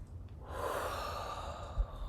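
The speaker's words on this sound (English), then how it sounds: "let's take a deep breath in here" A single slow, deep breath is drawn in close by during a calm guided tarot reading, a soft airy rush swelling and holding for a second or so.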